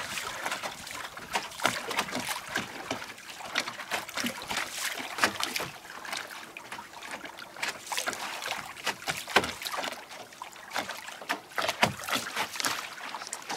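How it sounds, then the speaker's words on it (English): Waves slapping against the hull of a catamaran on a coastal tour at Dodanduwa, Sri Lanka, with irregular splashes and sloshing water over wind noise, moderately close. "Look at these waves. That's the one hitting the boat like this."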